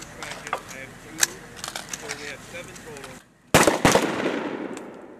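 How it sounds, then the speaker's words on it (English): Rifle shots at a military shooting range, with soldiers training. Sharp, distant cracks sound at scattered intervals under ambient noise, then a louder, closer burst of several shots. Voices are heard faintly in the background. "Shooters, please assume a good, supported firing position."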